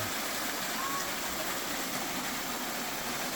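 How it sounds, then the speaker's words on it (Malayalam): A small waterfall on a wooded nature walk in County Cork, Ireland, gives a steady, even rushing wash that holds unchanged the whole time, fairly close, with no voices over it. "ഒരു ചെറിയൊരു വെള്ളച്ചാട്ടം."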